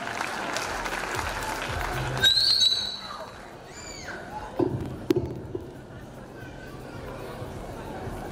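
Crowd applause at a live school concert in western Uganda, a dense clapping wash with cheers and a shrill whistle that fades after a few seconds, followed by scattered claps and chatter while people talk.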